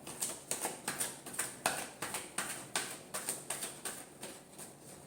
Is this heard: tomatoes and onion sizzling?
no